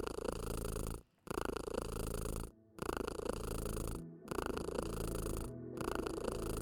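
Purring of a cat in the point-and-click game Kathy Rain 2, a close, steady rumbling purr in long continuous bursts broken by brief pauses for breath, heard alone without any talking.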